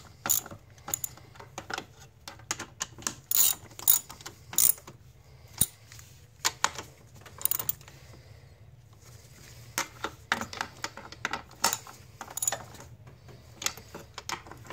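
Ratchet wrench snugging intake gasket bolts into brass inserts in a plastic intake on a 2008 Mazda, a close series of quick clicking ratchet strokes in bursts with short pauses, over a low steady hum.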